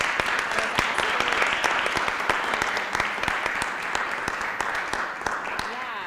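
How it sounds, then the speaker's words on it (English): A workshop audience at a farm sales marketing session claps in a steady, dense round of applause lasting several seconds, loud and close, with a voice talking faintly beneath. "I want to give a round of applause if you guys can do that"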